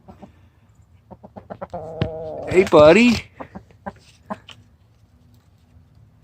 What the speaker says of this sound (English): that's our little rooster